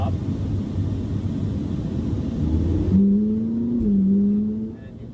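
A 2011 Ferrari 458 Italia engine drones steadily from inside the car while driving, then rises in a clear revving pitch sweep after a shift, holding before easing off.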